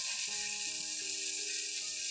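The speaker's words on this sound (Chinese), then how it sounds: "煎咗两边嘅皮之后咧，煎到有少少金黄色啦，我哋可以煎肉啦" Halibut fillet pan-frying on medium-low heat, a soft steady sizzle with faint hiss and a few light crackles, alone and fairly close.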